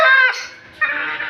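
Large Brahma and small Bantam chickens give a loud, close, hoarse honking call, broken by a short pause before a second, slightly softer call.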